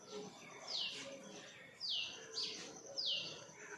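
Sparrow chirps, four short bright calls spaced a second or so apart, faint over a quiet, hissy outdoor background.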